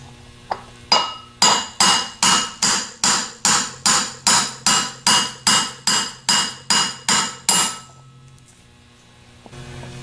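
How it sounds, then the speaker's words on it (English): About fifteen sharp metallic hammer taps on a half-inch extension, driving a bushing into a 37MT starter, in a steady, quick rhythm, ringing close and loud, then stopping abruptly. "We're going to use a half inch extension and then tap it in with a hammer."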